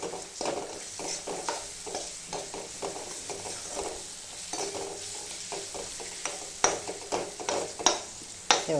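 Spices frying in hot oil for a vālāchyā shengā (val bean) dish, a steady close sizzle with rhythmic stirring scrapes and a few sharper knocks of the spoon near the end.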